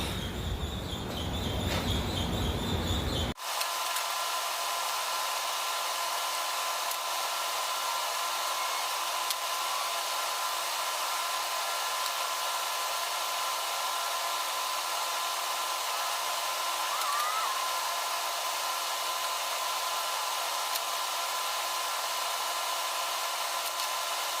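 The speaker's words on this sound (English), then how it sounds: "Then we'll hit these wheel wells with the Raptor liner." Spray gun applying Raptor liner bed-liner coating inside the front wheel wells of a WRX brat build, a loud steady compressed-air hiss that starts abruptly after a few seconds of low rumble and runs continuously, nearby and unbroken.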